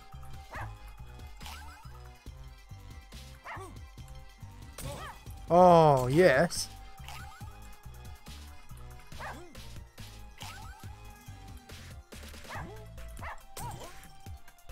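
In the Russian Subway Dogs game, a pack of dogs keeps up a chain of short barks and yips over music, with a loud burst of game noise midway and a brief spoken exclamation.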